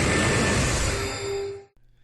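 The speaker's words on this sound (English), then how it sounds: "its cry sounds like this" A Pokémon cry for Necrozma, the Prism Pokémon, from a Pokémon video game: a dense, bright electronic screech lasting under two seconds, with a tone that slides lower toward the end before cutting off abruptly into near silence.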